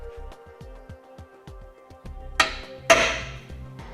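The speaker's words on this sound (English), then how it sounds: "we're going to take a center punch and we want to mark the middle of each of our holes here" A few sharp metallic strikes ring out near the end as a center punch is hammered into metal to mark hole centers, preceded by a series of soft rhythmic knocks, close and fairly quiet.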